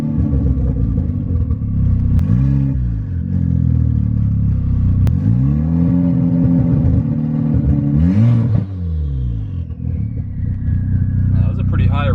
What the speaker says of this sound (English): Let me give it a little bit more revs.